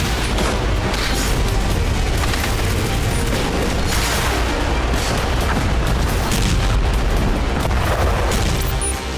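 Loud, continuous rumbling blasts and crackling bursts from wartime attacks in Ukraine, dense and relentless with no clear gaps.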